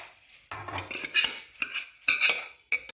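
Utensils clink and scrape against a cooking pot as ingredients and rice are added over tomato sauce for stuffed grape leaves, a few close, irregular metallic knocks and shuffles with no talk.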